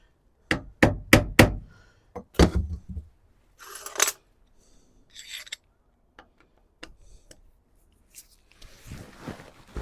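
Seized bolt head on a Land Rover 300 Tdi starter motor being whacked, a rapid burst of loud metallic strikes followed by scattered clinks and knocks, close and without talk.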